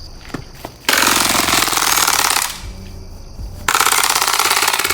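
Rapid, rattling bursts from an airsoft Glock 18C pistol with a sound amplifier crackle loudly in long strings as BBs hit a target, with short pauses between volleys.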